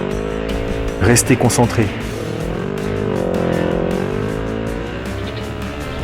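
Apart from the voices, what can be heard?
rally car driving and sliding on an ice track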